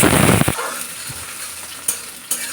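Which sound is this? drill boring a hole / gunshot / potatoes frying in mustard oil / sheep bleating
potatoes frying in mustard oil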